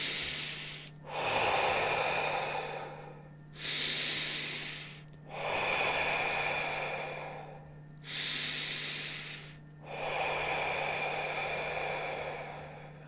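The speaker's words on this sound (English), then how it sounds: "Take some deep breaths in and out." Slow, deep breaths drawn in and let out during a guided healing meditation, five long airy inhales and exhales in a steady rhythm, close and clear over a faint constant hum.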